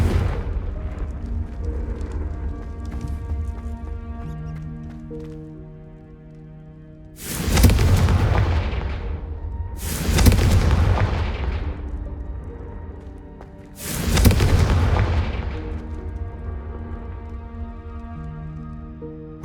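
Confringo blasting spells in the Hogwarts Legacy video game set off three loud booming explosions, each rumbling and fading over a couple of seconds, over a sustained bed of game music.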